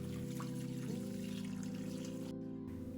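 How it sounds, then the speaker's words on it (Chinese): A lobster is rinsed under running tap water, making a soft, continuous trickle over a low steady hum that shifts pitch briefly. "用清水再次清洗一下龙虾"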